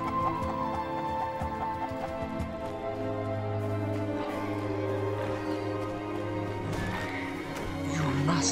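A horse neighs and whinnies in the Titan Quest video game, with clip-clop hoof sounds over steady game music and ambience.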